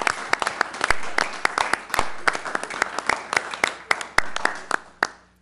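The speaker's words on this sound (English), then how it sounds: "How about a round of applause for Connie Bernardi?" A small crowd at a Columbia Heights school board meeting applauds Connie Bernardi, with sharp, fairly sparse claps near the microphone over a thinner round of clapping that fades out at the end.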